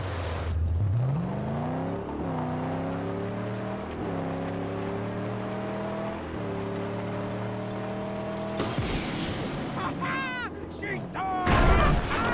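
Car boosting with nitrous in Mad Max, a rising engine whine that climbs in pitch and holds a loud, harmonic roar in several surges, followed by a crash and rapid sliding tones near the end.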